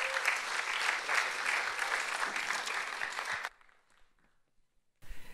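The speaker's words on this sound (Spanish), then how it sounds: "Seguimos con un cariñoso aplauso" A church congregation applauds warmly and steadily for about three and a half seconds, a dense wash of many hands clapping, then it stops abruptly into near silence before a new burst of sound begins.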